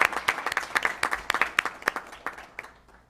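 A brief round of applause at a school board of education meeting, with distinct individual claps from a modest group, fading out at the end.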